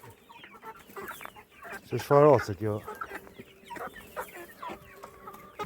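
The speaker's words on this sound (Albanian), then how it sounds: "Zoje, pula." Chickens of a good breed at a poultry seller in Rahovec, clucking and squawking close by, with a loud burst of calls in the middle, while people talk over and between the bird sounds.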